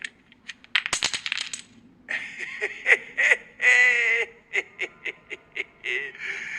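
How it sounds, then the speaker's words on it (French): Dice clatter and tumble across a surface during a high-stakes game where a kingdom is wagered, a quick burst of rattling impacts followed by scattered clicks, with voices and reactions mixed in. "Lancez les dés."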